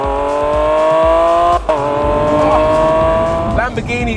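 A Lamborghini Aventador SVJ's naturally aspirated V12 screams at high revs toward 9,000 RPM, loud and close, holding a piercing tone with a brief dip before climbing again.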